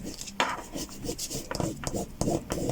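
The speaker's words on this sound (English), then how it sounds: "and rub away" A craft transfer is rubbed firmly onto a surface, making a close, rasping scrub in short repeated strokes, fairly loud and with no talking.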